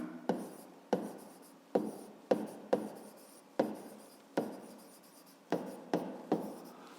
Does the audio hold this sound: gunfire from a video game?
no